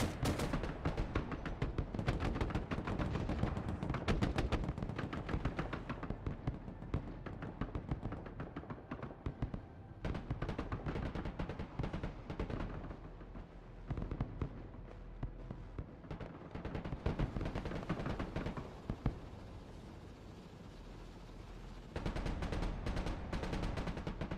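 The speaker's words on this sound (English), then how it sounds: "There's the mortars again." Mortar fire and other battlefield weapons in the military strategy game Broken Arrow, a dense, loud, continuous barrage of booming blasts and rattling gunfire that barely lets up over the whole span, with no voices.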